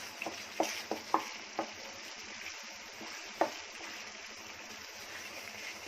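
Masala sizzles in oil with softened tomatoes, a close, steady frying hiss broken by several clicks and scrapes of stirring, with no voices over it.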